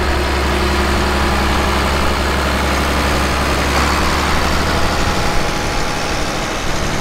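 An International Harvester tractor engine idles steadily with a deep, constant low rumble, loud and close, with a slight shift in tone near the end and no voices.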